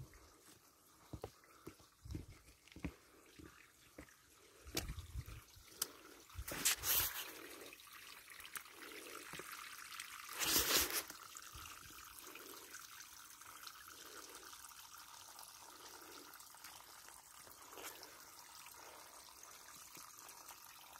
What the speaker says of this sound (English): I'm back at that little waterfall area again on the left-hand side.